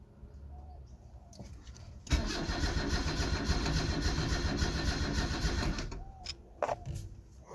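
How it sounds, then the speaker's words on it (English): A Toyota Corolla KE70 engine cranks and catches, then runs loud and rough for about four seconds before cutting out, with quiet surroundings and faint birds before and after. "So I just turned over the engine and that seemed to work"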